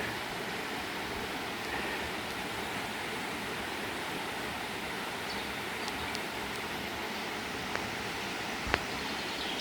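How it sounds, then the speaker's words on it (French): Steady rush of running water from a stream near a village in the Périgord countryside, a continuous broadband wash with no talk and one faint click near the end. "c'est pas une cascade mais On entend de l'eau quoi"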